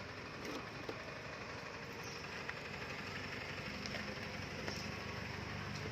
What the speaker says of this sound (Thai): เดี๋ยวฟังเสียงเครื่องยนต์ตอนสตาร์ทเครื่องนะครับ